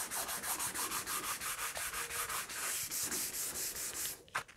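600 grit sandpaper rubs back a sprayed finish on a Firebird-style guitar body. Steady back-and-forth rasping strokes come in an even rhythm, loud and close, with no talking.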